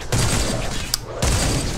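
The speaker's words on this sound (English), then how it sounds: "I never have to reload this gun that I seem to be firing a whole fuck ton of a lot." Loud bursts of rapid gunfire from a gun in the Paragon video game, one sustained volley, a short pause with a sharp crack, then another volley resuming near the end.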